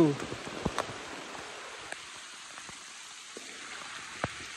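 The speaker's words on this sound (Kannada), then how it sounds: "ಫುಲ್ ಮಳೆಯಲ್ಲೇ ಹೋಗ್ಬೇಕು, ಮಜಾ ಇರತ್ತೆ ತಂಪಾಗಿ" Rain pours steadily on a forest trail on Kumara Parvata, a mountain trek in Karnataka, a dense close hiss with scattered sharp drops striking nearby surfaces.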